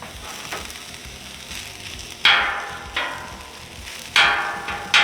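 Green onions and garlic sizzle in oil in a pan, a steady close frying hiss with a few louder crackling bursts as the pan is stirred, no voices.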